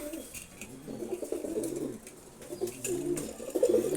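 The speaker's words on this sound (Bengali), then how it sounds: "এটা হচ্ছে রেড চেকার নর কবুতর।" A male Red Checker racer pigeon coos in low, throaty rolling phrases that swell and fade across several seconds, fairly close and continuous, with some faint background noise.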